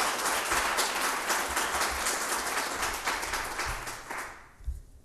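An audience at a human rights training session gives a round of applause, dense steady clapping from many hands that gradually thins and fades out near the end.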